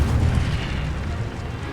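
Incendio fire spell cast in a video game, a brief rumbling whoosh of flame with a deep booming body, fading over a second or two.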